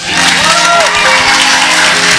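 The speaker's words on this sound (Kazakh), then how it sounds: "Ал енді мына орындарымызға отырмай тұрып бір шапалақ ұрайықшы." Wedding guests break into loud, sustained applause at a celebration, a dense wash of clapping filling the room while voices carry faintly underneath.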